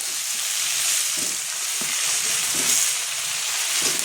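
Cabbage tipped into hot oil with pumpkin, beans, eggplant and tomato, giving a loud, close, continuous frying hiss with intermittent stirring scrapes.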